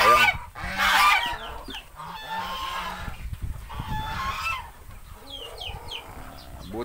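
A flock of farm-raised ducks in the Philippines quacks and honks continuously up close, many overlapping calls forming a busy, noisy chorus.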